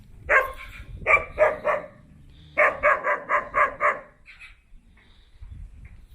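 Several Kangal Anatolian shepherd dogs bark in two quick bursts, a few barks then a longer run of five or six, fairly close, with a faint yip afterward.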